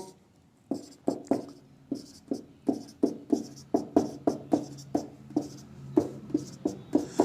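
A marker taps and squeaks across a board in a steady run of short, sharp strokes, close and clear, with no talking.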